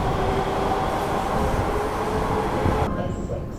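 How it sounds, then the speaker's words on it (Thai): A Frankfurt U-Bahn subway train runs past with a steady loud rumble and rolling roar, close by, then fades into quieter station ambience near the end. "รถไฟอูบานนะครับหรือว่ารถไฟฟ้าใต้ดินของประเทศเยอรมนีนะครับ"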